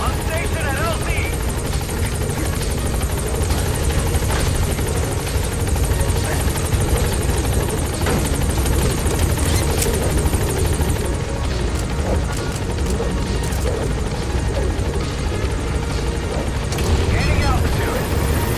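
Helicopter rotor thudding loud and steady throughout as it arrives at a landing zone in Metal Gear Solid V, with a dense whirring roar that stays close the whole time.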